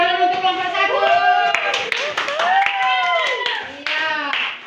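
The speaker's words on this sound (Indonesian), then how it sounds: "kita beri tepuk tangan untuk kelompok 1." A class claps for group 1 after its presentation in a training session, a spread of hand claps running under steady nearby talking voices throughout.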